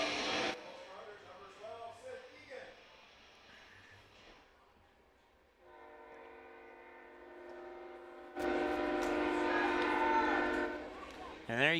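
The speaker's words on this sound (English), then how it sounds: "And there you get the train horn." Train horn sounding near a baseball stadium during a game, long harmonic blasts that come and go, one sustained and one louder near the end, with announcer talk between them.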